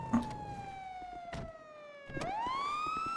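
Police car siren in GTA roleplay, a loud wailing tone that slowly falls in pitch, then sweeps back up sharply and holds, with faint thuds in the background.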